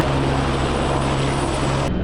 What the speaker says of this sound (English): look at this, helicopter's coming in ruining my shot